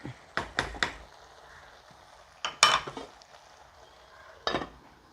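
A metal lid is set onto a pot of taro leaves, taro stems and dried fish curry, giving a few close, sharp clanks and scrapes separated by quiet pauses, with no talking.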